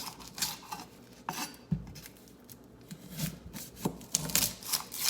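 A knife chops through the ends of an onion on a cutting board in a kitchen, giving a few separate crisp knocks and cuts with quiet rustling between them, close and fairly faint, with no talking.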